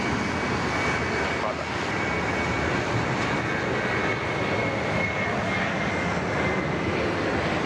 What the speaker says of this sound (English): Departure there from the Velocity 737-800.